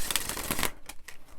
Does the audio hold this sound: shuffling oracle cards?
yes